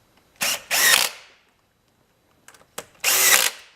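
Valve cover bolts on an Ecotec engine are tightened with a power tool in two sets of short bursts, each a pair of quick whirring runs, close and clear with silence between.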